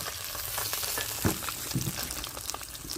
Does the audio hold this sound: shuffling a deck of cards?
no